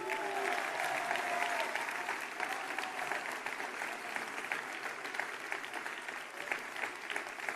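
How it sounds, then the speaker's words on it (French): An audience at a French presidential campaign rally applauds steadily and at length, a dense wash of clapping heard from within the crowd. "Merci à toutes et tous ce soir, une fois encore, de les applaudir."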